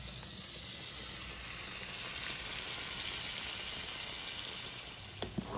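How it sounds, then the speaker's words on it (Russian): Cutlets fry in a covered pan, giving a steady, even sizzle that hisses on throughout at low volume with no talking. "и продолжаем жарить котлетки"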